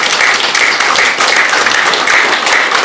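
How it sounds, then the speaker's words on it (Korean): An audience at a maritime security symposium breaks into steady, dense applause, loud and close, with many hands clapping continuously for the whole stretch. "우리 박수 한번 치시죠"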